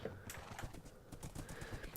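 Hooves of a Minecraft horse clop in a fast, steady galloping rhythm, quiet and continuous under a soft game background with no speech.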